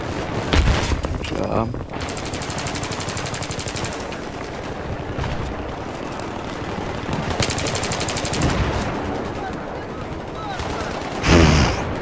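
Sustained gunfire from a Battlefield 3 match, dense bursts of automatic weapons crackling steadily for most of the stretch with heavier volleys and a loud blast near the end, while players talk over the action.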